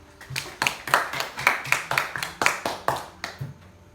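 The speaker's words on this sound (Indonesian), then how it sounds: "tepuk tangan buat Mutia" A classroom of children claps for a pupil named Mutia, about nine loose, fairly even claps ringing out close by with no talking.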